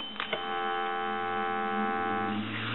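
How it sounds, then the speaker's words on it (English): A steady, continuous electronic telephone dial tone hums without change for a few seconds, with a couple of faint clicks at the start and no voices, from a Western Electric Princess Touch Tone telephone. "We'll give you some dial tone."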